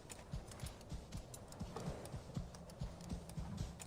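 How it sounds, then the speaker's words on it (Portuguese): Horse hooves clip-clop at a steady trotting rhythm in the video game Assassin's Creed Valhalla, faint and evenly paced with no talking. "Ó o cavalo."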